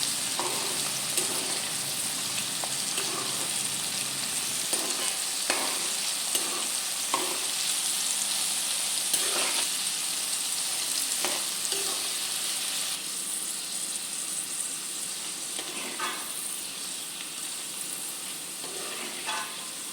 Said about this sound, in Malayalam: എന്നിട്ട് ആ തേങ്ങയും വെളുത്തുള്ളിയും കൂടെ ഒന്ന് ചെറുതായിട്ടൊന്ന് വഴറ്റി